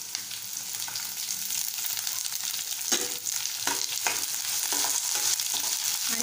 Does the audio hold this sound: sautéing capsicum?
yes